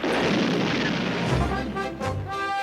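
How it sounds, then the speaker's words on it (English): Stun grenades go off in an animated G.I. Joe film as loud, dense rumbling blasts with heavy low booms and crackling bursts that roll on for a couple of seconds. "He used stun grenades."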